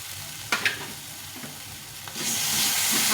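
A paste of spices, ginger, tomato and cashew is sautéed in a pan with a low sizzle and a few brief scraping stirs, then a louder burst of hissing frying near the end.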